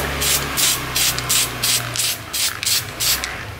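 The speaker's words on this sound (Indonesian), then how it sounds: "semprot tipis-tipis aja." Spray can applying thin coats of paint to sanded motorcycle body parts of a Suzuki Shogun SP 125 FD, close repeated hissing bursts of about half a second each, with a low hum underneath.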